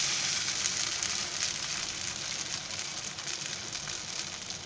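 Vegetable-topped bread bhaji toasting in a hot pan, a continuous close hiss and crackle of sizzling that stays loud and even throughout, with no voices.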